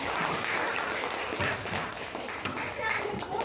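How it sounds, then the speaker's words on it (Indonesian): A classroom of students clapping together in a steady, continuous burst of applause, fairly close, with some voices mixed in. "Oke, tepuk tangan dulu dong."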